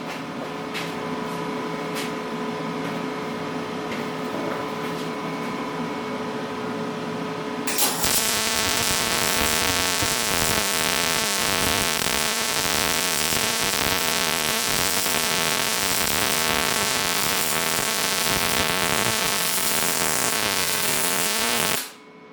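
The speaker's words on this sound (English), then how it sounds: "here goes the second weld." A Lincoln Power MIG 210MP welder running a MIG bead, a loud, steady crackling buzz that cuts in abruptly after a quieter hum and holds for about fifteen seconds before stopping.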